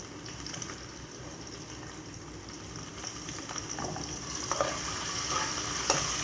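Ginger frying and being stirred in a pan of fried onion for chicken biryani, a steady close sizzle throughout with scraping stir sounds rising toward the end.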